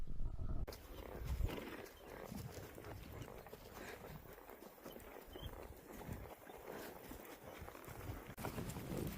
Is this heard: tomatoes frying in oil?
no